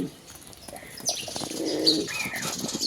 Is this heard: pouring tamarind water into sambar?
no